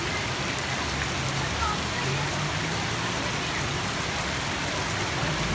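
Heavy, cool monsoon rain pours down in Lahore, a dense, steady hiss of drops on surfaces filling the air, with faint voices of children playing underneath.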